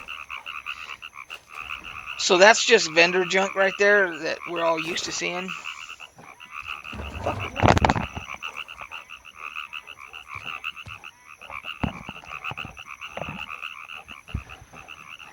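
In EverQuest 2, a frog croaks in a burst of warbling calls over steady game ambience, while someone talks nearby.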